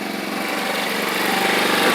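An X-Pro X20 scooter engine idles steadily close by, a loud, buzzy, even drone with a fine rapid pulse and no pauses.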